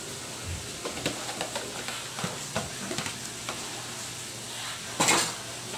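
A spoon scrapes and clinks in a pot of red beans with banana heart, soft irregular stirring knocks over a faint simmer, ending in a louder clatter.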